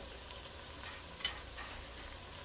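Vegetables sizzle in a pan while oxtails are being cooked, making a soft, even frying hiss with one brief clink partway through.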